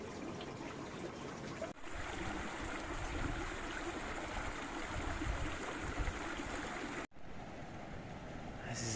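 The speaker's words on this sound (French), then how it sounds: "on entend le ruisseau en dessous." A stream flowing beneath the Chavière glacier in the French Alps, a steady broad rushing that fills the whole stretch, briefly cut twice, with a faint rise in the highs near the end.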